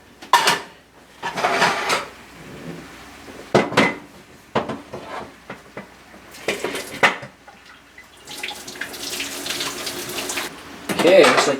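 Boiled pierogies being strained in a kitchen sink, with running tap water splashing and pots and pans clattering in bursts, fairly close and loud, with brief quiet gaps between.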